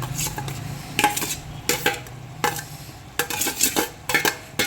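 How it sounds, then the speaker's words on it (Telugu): Finely chopped tomatoes tipped into a cooking pan while making a fenugreek-leaf and cabbage curry, giving a run of close, sharp utensil-on-pan clatters and scrapes in irregular bursts over a low background hum, with no talking. "ఇప్పుడు దీంట్లో మనం సన్నగా చాప్ చేసి తరుక్కున్న టమాటాలు వేసుకుందాం"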